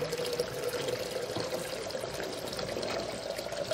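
Water poured steadily from a container while making Butterfinger cream ice, a continuous soft rushing trickle heard close and fairly quiet, with no talking.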